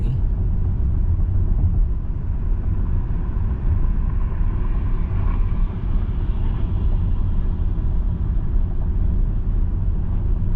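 Steady low rumble of a Mercedes EQS electric car coasting on the road, with road and tire noise and no motor whine, constant and close from inside the cabin.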